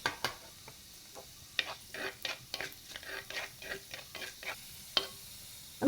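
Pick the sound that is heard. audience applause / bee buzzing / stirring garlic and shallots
stirring garlic and shallots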